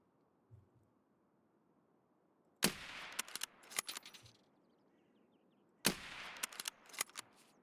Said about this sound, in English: Run off to wherever he heard that gunfire.